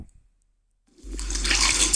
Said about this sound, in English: We take a quick dip in a well